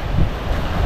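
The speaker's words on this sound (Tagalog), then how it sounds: "Sa napakagandang dagat ng Tumok Beach." Sea waves wash onto a quiet brown-sand beach, a soft continuous surf roar mixed with wind rushing across the microphone, with no voices.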